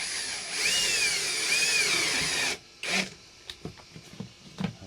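A power drill with its clutch set low drills steadily and loudly for about two and a half seconds with a whining, rasping tone, then stops, leaving a few faint clicks and knocks, during a Toyota HiAce van bed frame build.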